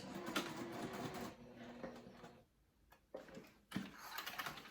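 A domestic sewing machine running a short back stitch at stitch length 2.5, a quick mechanical whirring burst that pauses briefly and then resumes, close and fairly quiet with no talk.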